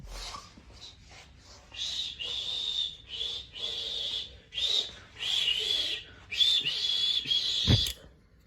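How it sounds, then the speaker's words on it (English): A high, wavering whistle repeats in a series of short and long blasts, with a faint background hiss and a sharp thump near the end. "Just then, he heard a whistle."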